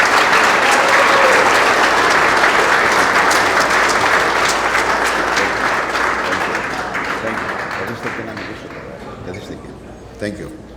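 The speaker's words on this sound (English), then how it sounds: "Please give a warm round of applause" A crowd at an awards ceremony for Hellenism applauds warmly for the event's organizer, loud full clapping that gradually fades over the final seconds.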